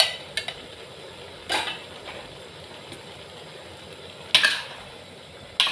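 A spatula clatters and scrapes a few times against a pan while a sweet and sour stir-fry with spring onion and chili is tossed, the sparse knocks sounding faint over a quiet background.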